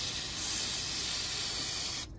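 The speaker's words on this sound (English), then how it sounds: "So now just clean the area with a bit of brake cleaner." Brake cleaner sprayed from an aerosol can around the engine bay of a Ford Focus ST TDCI during a service: one steady, close hiss lasting about two seconds before cutting off abruptly.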